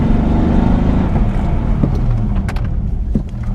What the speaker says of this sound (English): I'll just give it a full brake here